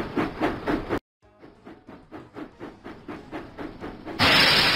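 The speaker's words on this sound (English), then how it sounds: "Full steam ahead!" A cartoon steam engine from a Thomas & Friends video game chuffs in a steady rhythm of soft puffs with a hissing release. A brief silence comes first, and a loud burst of steam ends it.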